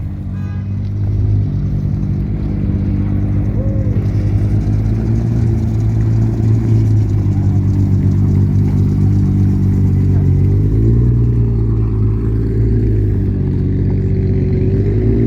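Car engines rev loudly and steadily at a car club show where burnouts are under way, a dense close engine roar running the whole time with rising and falling pitch and no talk.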